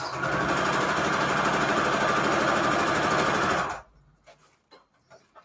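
A sewing machine stitches fabric for a quilted journal cover in a fast, steady mechanical whir for several seconds, then stops abruptly, leaving quiet handling noises.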